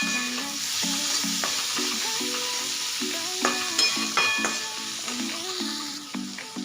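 Finely chopped tomato and onion sautéing in a pan, a continuous close sizzle broken by repeated clinks and scrapes of a spatula stirring, with no talking.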